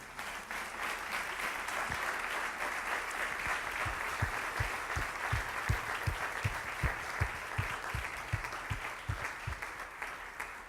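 A church congregation applauds, with a broad, steady wash of clapping that sustains throughout and rhythmic low thumps of unison claps or a drum beating beneath it.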